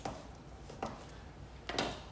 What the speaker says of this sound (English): So right now I'm just chopping up some assorted